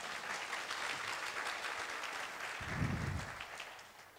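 Audience of roughly a thousand at the opening of the MOPCON 2017 tech conference breaks into sustained, even applause, with a brief low thump partway through.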